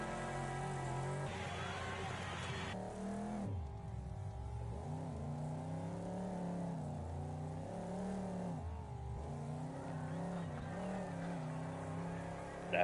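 Race car engines in the Wreckfest racing game drone and rev continuously, shifting pitch through gear changes and throttle inputs as cars corner, with a commentator talking over them.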